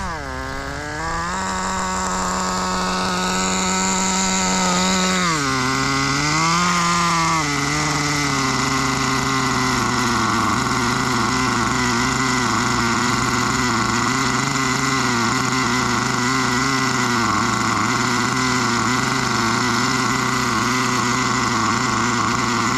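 Budget pro nitro engine in an RC car running hard, a loud buzzing whine close by that rises and dips in pitch as the throttle changes, then holds a steady high rev, no one talking.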